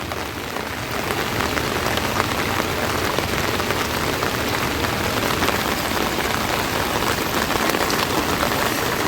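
Floodwater rushes in a strong current into houses during severe flooding in Sunamganj: a dense, steady roar of churning water with no pauses, heard close and fairly loud throughout.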